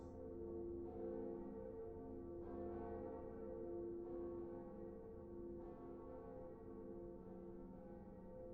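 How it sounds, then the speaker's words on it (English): Second Bell of Awakening tolling in Dark Souls, a deep, sustained church-bell ring with strikes roughly every one and a half seconds, each rich ringing tone decaying under the next, fairly quiet and alone. "pulling this lever is ringing the second bell of awakening"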